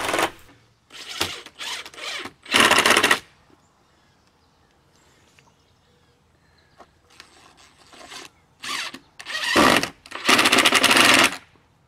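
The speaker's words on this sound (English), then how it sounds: "I'll drive a screw through the cleat into the top in the middle on each end." Screws driven through a cleat and brackets into an outdoor wooden workbench top with 2.5 inch screws, heard as short, loud, gritty bursts of a driver in two groups separated by quieter handling noise.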